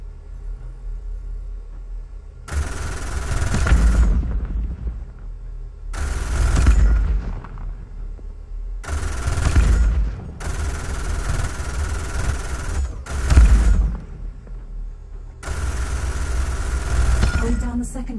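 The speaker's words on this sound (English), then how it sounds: "Use the Gatling guns to destroy enemy targets." Gatling guns firing in the space combat game EVE: Valkyrie, four long roaring bursts of rapid fire with brief gaps between them, loud and steady over a low engine hum.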